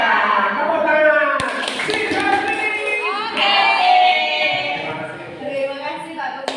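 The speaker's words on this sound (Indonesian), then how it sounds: "Tepuk tangan." Hands clap together as an audience applauds at a teachers' gathering in Blora, Indonesia. The clapping is steady and fairly loud, with voices talking and calling out over it throughout.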